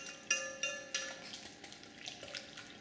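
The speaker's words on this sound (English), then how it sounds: "We're going to want to stir this up again." A spoon scraping and knocking against a hot bowl while stirring a microwaved roux, a few sharp clinks at a steady rhythm followed by softer scraping, close and fairly quiet.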